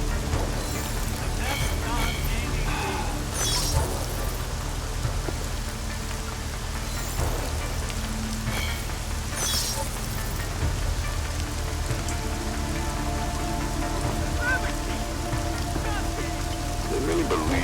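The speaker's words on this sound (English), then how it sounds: "At least get us out of the rain." Steady rain falls in the video game Deus Ex: Mankind Divided, a dense, constant patter on surfaces with occasional louder splashes, continuing throughout with a low ambient rumble beneath.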